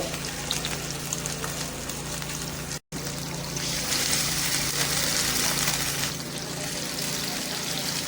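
Chapli kebabs fry in four tablespoons of hot oil with a constant hissing sizzle and a low background hum, broken by a brief cut to silence before the sputtering resumes.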